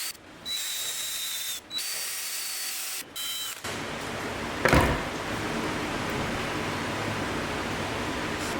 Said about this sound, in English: Now I can do the lapping on this side and get this thing all nice and hopefully seating again